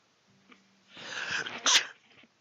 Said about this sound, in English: can't really hold back a sneeze